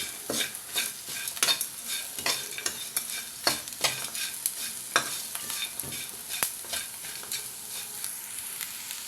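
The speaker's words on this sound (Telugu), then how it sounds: "ఈ రైస్కి సరిపోయినంత సాల్ట్ వేస్తున్నాను అలాగే లైట్గా కారం పచ్చిమిర్చి వేసాం కదా ఇది సరిపోతుంది ఇదంతా బాగా కలుపుకుందాం" A spoon repeatedly scrapes and turns rice mixed with salt, chilli powder and green chillies in a hot pan, with rhythmic close stirring strokes over a soft continuous frying sizzle.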